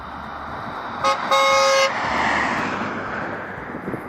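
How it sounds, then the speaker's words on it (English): A car approaching and passing on a road, its engine and tire noise swelling then fading, with two short horn toots as it nears. "There's a car coming."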